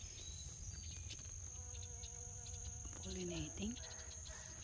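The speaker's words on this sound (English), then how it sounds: "Oh, the bees pollinating it." Bees around watermelon flowers in a garden produce a steady, faint insect buzz throughout, with a soft louder hum passing near the end.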